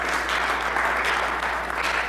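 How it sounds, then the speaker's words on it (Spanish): Congregation at a church camp service applauding together, a steady wash of clapping held at moderate level for a couple of seconds over a low constant hum. "denle un fuerte aplauso al Señor"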